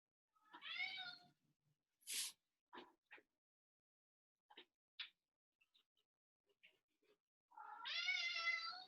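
A house cat meows loudly up close at the start and again at the end, with soft faint rustles and clicks in the quiet between.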